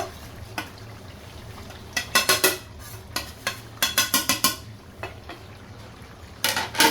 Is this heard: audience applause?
no